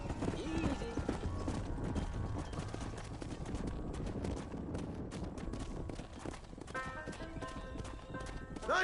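Horses in the video game Red Dead Redemption walking into a pen, with close steady clip-clop of hooves and an occasional neigh, under intermittent talk and background game music.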